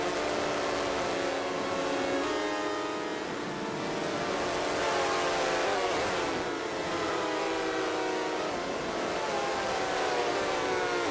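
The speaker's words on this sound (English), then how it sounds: "It does sound like racing cars, doesn't it?" The ShapeStage synthesizer app on iOS, modulated by an LFO, gives off a continuous buzzy tone that sweeps up and down like racing cars zooming past, steady and loud throughout.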